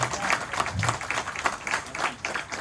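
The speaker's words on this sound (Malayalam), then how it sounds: "അതിന് ക്ലാപ്പ് വന്നു." An audience at a training session breaks into applause, a dense steady patter of many hands clapping together at moderate volume, filling the room without pause, with faint voices mixed beneath.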